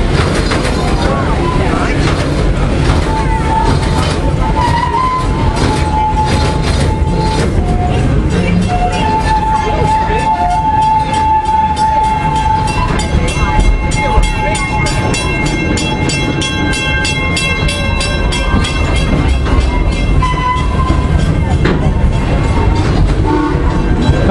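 The Serengeti Express ride train at Busch Gardens Tampa rumbles and clatters along continuously, wheels clacking over track, with a long tonal squeal midway and a loudspeaker voice faintly over it.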